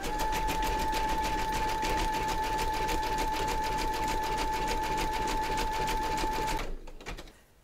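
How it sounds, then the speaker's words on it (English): Embroidery machine stitching a zigzag and satin outline in a hoop, a fast, even mechanical whirring with a steady tone that runs on for several seconds, then winds down and stops. "now going to pop your hoop into your machine and stitch round number 5, and that's going to zigzag around the edge and then do the satin stitching on top"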